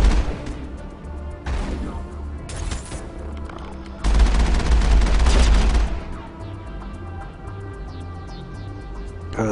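Enemy gunfire in the Mass Effect video game, a sustained burst of loud shots in the middle with lighter scattered fire before and after over a game soundtrack.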